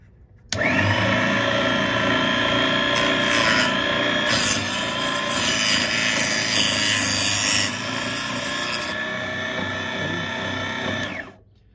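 A Harbor Freight Drill Master power saw cuts a brass jig: the motor spins up abruptly into a loud, steady whining buzz, with grinding texture as the blade bites, runs for about eleven seconds, then winds down.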